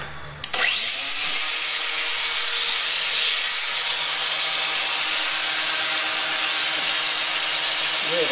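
Goat horns have their sharp edges trimmed with a power tool, giving a loud, steady abrasive grinding that starts abruptly and continues without pause.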